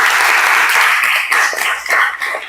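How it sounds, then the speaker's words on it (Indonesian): A classroom of students claps together in a burst of loud, busy applause at the end of a lesson, tapering slightly toward the close. "Tepuk tangan untuk kita semuanya"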